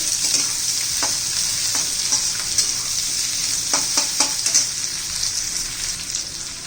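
Onions being sautéed in a pan for a green capsicum dry curry, a steady bright sizzle with occasional spatula scrapes and stirs, close and continuous, no talking.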